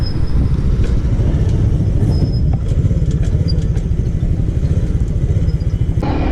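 A motorcycle riding along an expressway, with a loud, steady engine drone and road rumble lasting throughout, close up and without speech.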